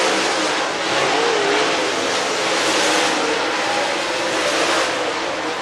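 A race car engine roars steadily and loudly at the Talladega Short Track speedway during a practice lap session, a dense continuous drone with no pauses.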